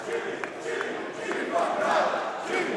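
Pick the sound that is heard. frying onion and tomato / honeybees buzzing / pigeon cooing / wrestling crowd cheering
wrestling crowd cheering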